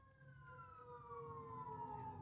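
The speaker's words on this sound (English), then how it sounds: "Anthony, do you hear that siren? That's the alarm siren." Distant alarm siren wailing outdoors, a faint, slowly falling tone that sounds steadily through the whole stretch over a low background rumble, with no voices.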